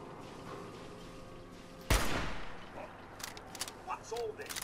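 In Fallout 4, a single loud gunshot cracks suddenly partway through and rings out in a decaying echo, followed by softer scattered shots and clatter while a voice speaks.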